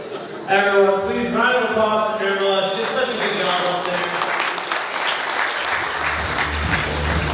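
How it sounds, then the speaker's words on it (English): Round of applause at a Parkinson's charity dinner gala after a woman finishes on stage, a dense steady wash of clapping across the room that starts after a brief lead-in with voices and holds to the end. "Everyone, please round of applause for Gala"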